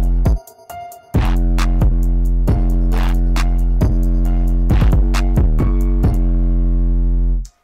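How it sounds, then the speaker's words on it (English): A heavy, distorted SoundCloud-style trap beat with booming sustained bass and sharp percussive hits in a steady rhythm, loud and continuous until it cuts off at the end. "this is how you get that distortion."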